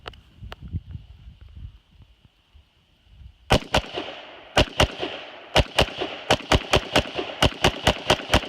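An AR-15 rifle fed from a Hexmag magazine fires a string of about fifteen sharp, loud outdoor shots in an irregular steady cadence, after a few seconds of quiet rustling and handling.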